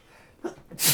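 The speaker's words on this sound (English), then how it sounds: "I have to sneeze" A single sneeze bursts out near and loud at the end, after a short sharp intake of breath, with no talk around it.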